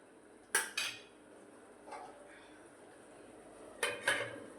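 A lid set onto a cooking pot holding a cashew paneer vegetable dish, a few sharp metallic clanks in two pairs with quieter rattles between, close and clear over a faint background hiss.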